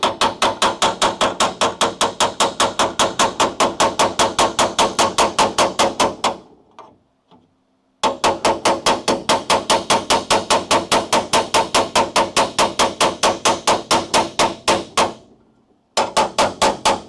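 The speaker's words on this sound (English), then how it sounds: "Let me go grab the hammer and the dolly, and we'll just start whacking this thing" Steel hammer and dolly pounding a car frame rail end, a rapid relentless series of loud metallic blows in two long runs separated by a brief pause, close and alone.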